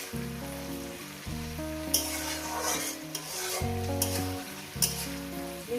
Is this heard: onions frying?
yes